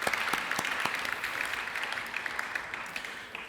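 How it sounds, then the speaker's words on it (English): Participants at an art and empathy workshop give a round of applause, a fairly soft wash of many hands clapping with a few sharper individual claps standing out. "Give yourself a round of applause for trying something new."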